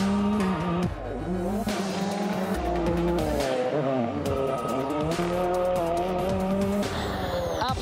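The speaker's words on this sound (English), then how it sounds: "his Ford Fiesta regional rally car" A Ford Fiesta regional rally car engine revving hard and shifting through gears, with tires squealing as it skids through turns, loud and close.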